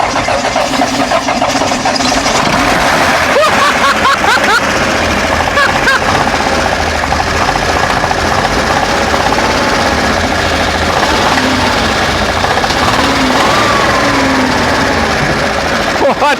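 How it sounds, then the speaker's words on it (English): A 1962 Chevrolet Corvair engine cranks and catches, running loud and steady throughout with a rough, uneven mechanical clatter, while people talk over it. "go ahead and try cranking it again."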